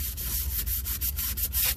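A Yamaha YFZ exhaust is sanded by hand with 600 grit sandpaper, giving a close, rapid run of raspy back-and-forth strokes, about nine in under two seconds.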